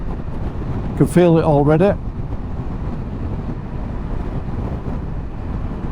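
Strong wind roars steadily against a rider on a motorcycle tour through Norway, a continuous low buffeting rumble with one short spoken remark near the start.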